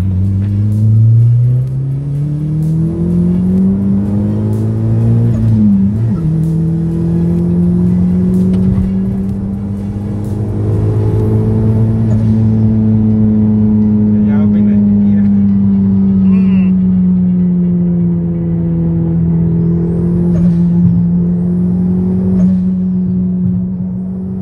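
A turbocharged 8th-gen Honda Civic FD with the R18 engine, reflash-tuned on the stock ECU, cruises on a road test, its steady droning engine tone rising and falling gently with throttle, loud and close throughout.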